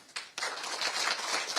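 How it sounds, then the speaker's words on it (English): Audience applause at a Read to Succeed bill-signing event with Governor McMaster, a faint, short burst of clapping from a crowd that swells and carries on. "I'll take the applause"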